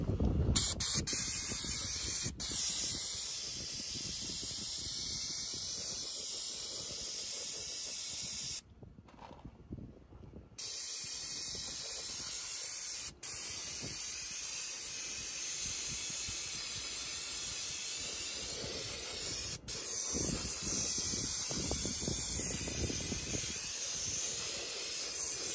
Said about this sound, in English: I'm gonna spray some starting fluid over this so I can just rinse it off.